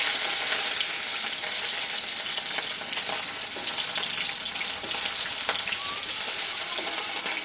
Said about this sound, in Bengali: একবারে সব মাছ ভাজা যাবে না, আমি এটা দুবারে ভেজে নিচ্ছি।